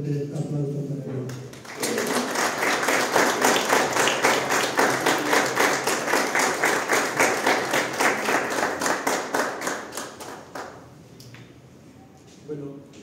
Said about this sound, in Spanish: pedirles a ustedes un fuerte aplauso para él